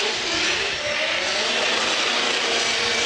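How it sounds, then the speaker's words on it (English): A drift car's engine roars at full throttle during a 2018 drifting qualifying session, making a loud, continuous, deafening exhaust blare that holds steady without a break. "that exhaust note is nearly deafening"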